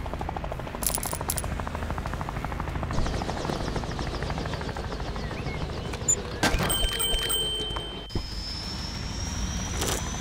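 Helicopter in the video game Off the Road Unleashed, a continuous rapid rotor chop and engine whine, loud and close, with a few short clicks and tonal game sounds partway through.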